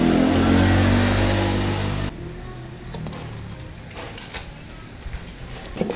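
A motorcycle engine on a repair bench revs with a loud, droning hum for about two seconds. It then cuts out, leaving quieter clanks and sporadic handling noises.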